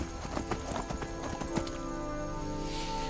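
Clip-clopping hooves of a wild horse in Skyrim, a rapid irregular patter over the first half followed by a whinny, set against steady game music and ambience.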